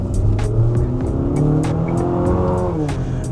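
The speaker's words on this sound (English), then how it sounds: "let's listen to that 4-cylinder." A 2026 Infiniti QX60's four-cylinder engine revving hard under acceleration, a loud, close, steadily rising drone with a strained, buzzy tone and no gaps.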